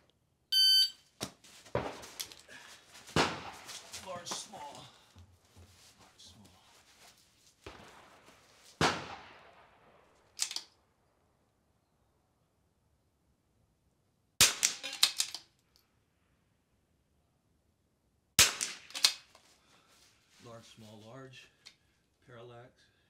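A .22 rifle fires at steel targets during an NRL22 rimfire match stage. Sharp, separate cracks arrive in small groups with pauses between them, each followed by a brief metallic ring.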